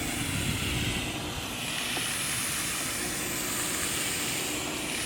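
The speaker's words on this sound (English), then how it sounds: "It's so-called dry vapor steam." A vapor steam cleaner pours out a steady, loud hiss of dry steam without pause while cleaning boat cushions, a dense rushing sound that holds constant throughout.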